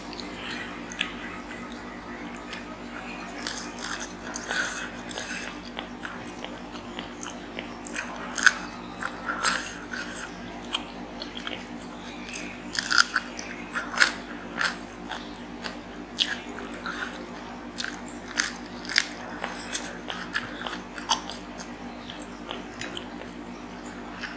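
Someone bites and chews fried tofu close to the mic, with irregular crisp crunches and soft wet squishes spread over a long stretch.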